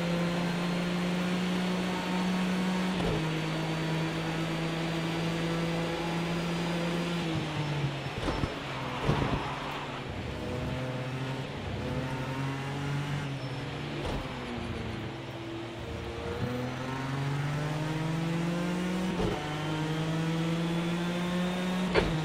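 A race car pulls out of the pits at Circuit des 24 Heures, Le Mans, in Project Cars 2, its engine droning steadily and stepping up through repeated gear shifts over a long stretch.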